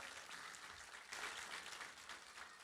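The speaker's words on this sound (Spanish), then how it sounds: "Vamos a darle un fuerte aplauso." A church congregation applauding at a Spanish-language service, a steady, even wash of clapping from a crowd that holds for a few seconds at moderate distance, with no voices over it.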